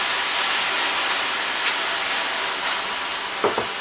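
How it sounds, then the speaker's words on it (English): A steady, loud hiss of steam and sizzling water from vegetables steaming in a pan with a little water fills the clip, with a couple of soft clinks near the end. "And begin the steaming process here with just a little bit of water."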